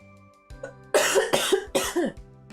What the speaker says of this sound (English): I'm still gonna be coughing a wee bit.